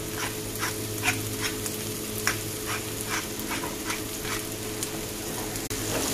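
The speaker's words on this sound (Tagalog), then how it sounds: "and saute for about 5 to 6 minutes" Shrimp fajita fillings sautéing in a skillet, a steady close sizzle with periodic stirring scrapes through the clip and a low constant hum underneath.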